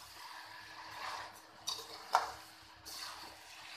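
Sugar being stirred into a lauki mawa barfi mixture in a pan, with soft scraping and a couple of sharp clinks of the spoon against the metal, fairly quiet and close.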